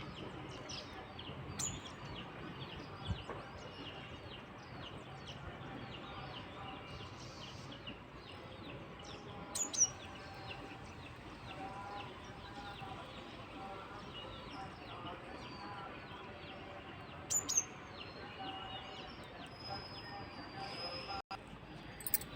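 Sparrows in a terrace garden give faint, scattered chirps and tweets against a soft outdoor background, with a few brief, sharper calls standing out now and then.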